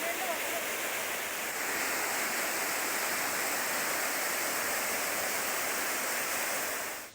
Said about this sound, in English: The release of water to Aban River following the opening of 2 sluice gates of the Morogahakanda reservoir